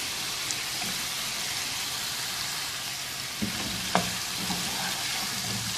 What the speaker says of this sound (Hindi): इसको अच्छी तरह से मिक्स करेंगे और 2-3 मिनट भून लेंगे।